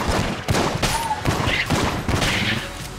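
Rapid bursts of gunfire from the video game Enter the Gungeon, several shots in quick succession, loud and sharp, with some voice activity mixed in.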